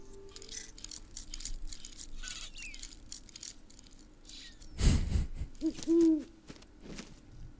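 An owl in the Syberia 3 video game hoots a few times against a quiet ambient game background, preceded by a loud thump and rattle midway through.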